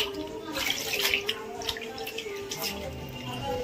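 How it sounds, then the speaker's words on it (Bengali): Running water from a tap splashes steadily as potatoes are washed in a home kitchen, close and continuous with a few brighter splashes and drips. "তাহলে ও ধুয়ে নো আলুটা"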